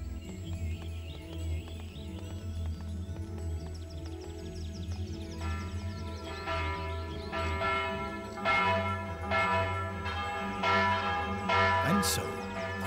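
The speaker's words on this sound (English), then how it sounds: "begins to ring the bells of Notre Dame" Cathedral bells of Notre Dame ringing in a cartoon, a series of loud resonant strikes building up with lingering overtones over a low ambient hum, with faint bird chirps early on.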